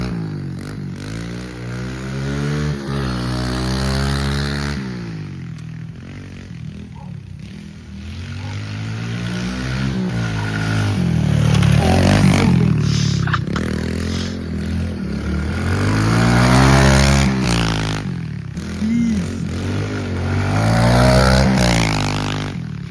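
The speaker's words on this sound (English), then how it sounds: "So we got this beautiful KLX 110 right here." A Kawasaki KLX 110 pit bike engine runs close by, its buzzing note rising and falling through repeated revs, with rattling and scraping over the steady motor.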